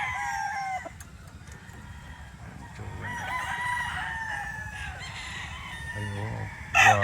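Boston Millionaire gamefowl roosters crowing and clucking nearby, several crows overlapping in bursts with a louder burst at the end, over quiet farmyard background.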